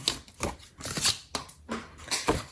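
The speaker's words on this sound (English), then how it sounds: "Now we're going to take our scissors and completely remove that section on both sides" Scissors snip repeatedly through the card stock of a gift card box, several crisp cuts in an uneven rhythm, close and moderately loud with no talking.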